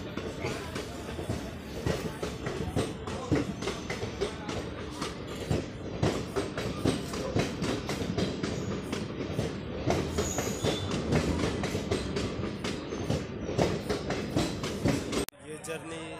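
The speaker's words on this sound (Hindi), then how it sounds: "बेगमपुरा जम्मू तवी एक्सप्रेस बनारस के लिए यानी वाराणसी के लिए आगे की तरफ निकल रही है" Begampura Jammu Tawi Express departing Sultanpur station in India, with a continuous rhythmic clatter of wheels over rail joints and occasional squeal, loud and near for most of the clip before cutting off abruptly.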